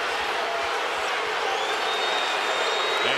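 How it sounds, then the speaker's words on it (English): A sellout basketball arena crowd roars and boos in a dense, sustained wash of voices during a Lakers home game. "the officials hearing the boos from the sellout crowd"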